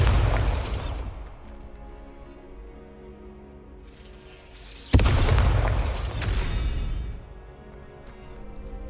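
Bombarda spell explosions in the video game Hogwarts Legacy: two heavy booming blasts, the first fading into a rumbling tail, the second sharper and louder with a long resonant decay, alone without speech.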